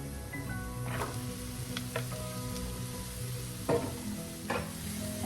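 Chopped radish (mullangi) fries in a pan while being stirred, giving a steady close sizzle broken by a few scraping strokes of the spoon, with no voices.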